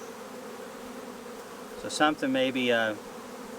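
Honey bees buzzing around an open hive during a honey-production inspection, a low steady drone beneath brief close voices that speak for a moment near the end.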